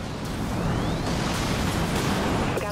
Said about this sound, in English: Missiles have a lock.